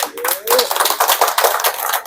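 A group at a first-day briefing class at Patanjali Wellness claps hands in a quick, uneven patter, close and fairly loud, with a brief voice-like tone near the start.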